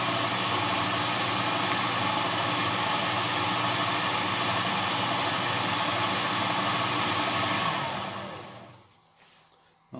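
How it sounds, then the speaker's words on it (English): A lathe spins a bar held in an ER32 collet chuck, a steady loud whirring drone that runs evenly for several seconds, then winds down and fades as the spindle stops. "just put it in the collet chuck now and we'll just give it a quick spin just to see how far out it is"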